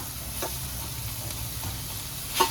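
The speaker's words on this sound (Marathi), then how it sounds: "आता असं हळूहळू पाणी थोडं थोडं पाणी घालून फोडणी ही सगळी शिजवून घ्यायची" A spiced tomato tempering for chicken dal gosht simmers in a pan with a steady low sizzle, broken by a few soft stirring scrapes and a louder clink near the end.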